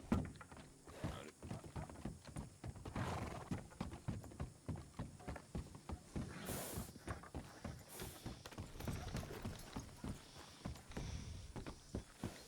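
Faint, continuous clip-clop of horse hooves on a hard surface in the video game RedM, a steady walking rhythm lasting the whole stretch with no voices.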